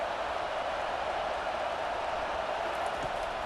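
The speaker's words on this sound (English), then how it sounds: "This crowd bringing the energy and noise early." Steady roar of a stadium crowd in the College Football 25 video game during an Ohio State vs Penn State matchup, a continuous dense wash of cheering held at an even level throughout with no commentary over it.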